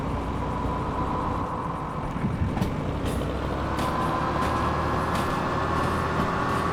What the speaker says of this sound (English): Listen to that throaty diesel